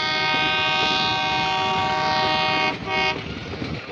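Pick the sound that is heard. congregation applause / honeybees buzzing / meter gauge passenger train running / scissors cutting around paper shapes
meter gauge passenger train running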